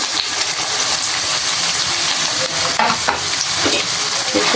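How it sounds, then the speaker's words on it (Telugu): Chopped onions with a little coriander fry in a pan for a murrel fish curry, a loud, steady, close sizzle that runs without a break, with faint stirring scrapes and no talking. "బాగా వేగాలి ఆనియన్స్"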